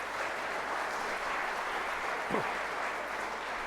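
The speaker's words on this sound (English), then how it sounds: "A big applaud for all the students' hard work." An engineering college graduation audience applauds the graduating students with continuous, even clapping from a large crowd, moderately loud and spread out, sustained throughout with no pause.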